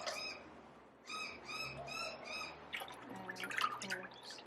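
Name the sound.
bird calling in the background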